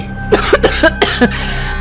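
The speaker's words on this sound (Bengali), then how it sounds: "কাশিটা পুরোপুরি নির্মূল হতে আরো কটা দিন সময় লাগবে।" Several short, harsh coughs come in a quick irregular burst, close and loud, with no other sound around them.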